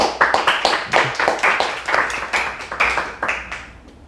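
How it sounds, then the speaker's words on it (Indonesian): An audience claps in a lively burst of hand claps, loose and rhythmic, close and fairly loud for about four seconds with no talking over it. "tepuk tangan untuk Indra"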